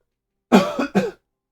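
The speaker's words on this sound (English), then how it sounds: "it's just making me cough more" Two sharp coughs follow each other closely, loud and near, from a person streaming while opening trading card packs and sipping a citrusy drink; nothing else is heard around them.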